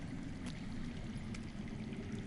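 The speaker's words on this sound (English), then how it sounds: "I hear water. From underground." Underground running water in a Game of Thrones video game, a steady low rushing stream with faint trickling, quiet and continuous throughout with no talk.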